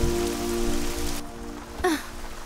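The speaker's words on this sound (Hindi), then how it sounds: "ये क्या? न्यूयॉर्क में अचानक बारिश शुरू हो गई?" Sudden rain pours down in New York during a romantic film scene, a steady broadband hiss of drops on surfaces that sits under a soft music bed.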